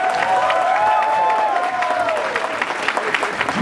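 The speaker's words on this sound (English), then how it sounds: "a huge round of applause" A crowd at a furry convention closing ceremony applauds loudly and steadily, with cheers and whoops rising over the clapping throughout.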